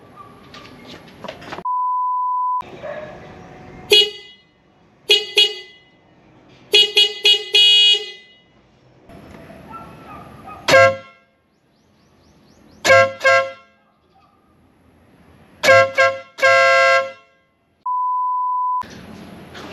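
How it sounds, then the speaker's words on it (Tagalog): A newly installed aftermarket horn on a 2025 Toyota Wigo sounds in several loud, close blasts of varying length, some short toots and some held honks, spaced with pauses and with steady electronic beeps at the start and end. "ipapadinig ko sa inyo kung ano yung tunog ng ating newly installed horn."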